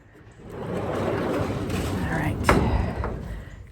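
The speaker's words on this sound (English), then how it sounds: "every morning when he's done eating, we close these back doors." Back doors of an animal pen or barn swung shut in the morning, with a single sharp thud standing out over a steady rustling, scuffling background, followed by a smaller knock shortly after.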